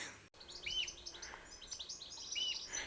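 Birds chirping and twittering along a narrow country lane near Whittington, Cumbria, several short bright calls repeating across the clip over a quiet open-air background.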